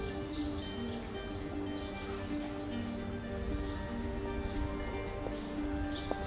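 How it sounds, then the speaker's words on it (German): Small birds chirp faintly and intermittently in a city street in Solothurn, Switzerland, under a steady hum of urban background noise. "Sogar noch Vögel hört man da in der Stadt."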